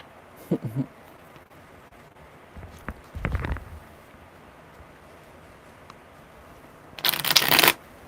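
Tarot cards are shuffled in three separate bursts of riffling and flicking. The first two are brief, and the longest, loudest one comes near the end, with quiet pauses between them.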